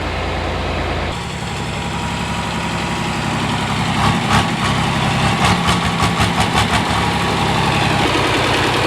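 A 4320 farm tractor engine idles nearby, a steady low rumbling drone that holds evenly throughout with a few faint clicks partway through.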